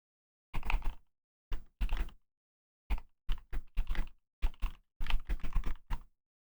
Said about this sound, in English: Sorry, I'm typing a little bit.